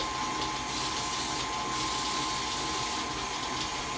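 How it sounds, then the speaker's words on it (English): A steady hiss of aerosol baking spray into a cake pan at close range, continuous with slight surges, over a faint hum. "I just usually spray that right in, making sure you get the creases good."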